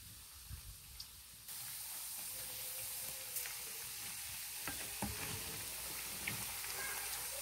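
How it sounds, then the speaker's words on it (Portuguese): Pork fat frying in a pan as lard renders, a steady hissing sizzle that turns louder partway through, with occasional stirring scrapes and pops close by. "De vez em quando eu dou uma mexidinha até ficar tudo fritinho."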